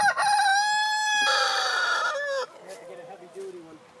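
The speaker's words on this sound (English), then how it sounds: "Here's our chickens." A rooster crows loudly nearby in a long drawn-out call, followed by softer clucking from backyard chickens.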